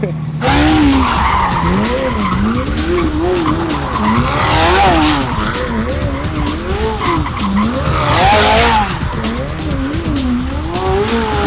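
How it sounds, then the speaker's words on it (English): A car drifts with continuous loud tire squeal and skidding over a revving engine, the screech wavering in pitch throughout and holding close and strong from start to end. "Peter's a very nice guy to just let Austin drift his car."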